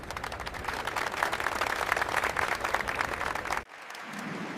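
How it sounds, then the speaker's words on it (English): Conference delegates from around the world applaud in a large hall, a sustained wash of many hands clapping at moderate distance that stops abruptly, leaving a low room hum. "delegates from around the world rise to their feet in applause"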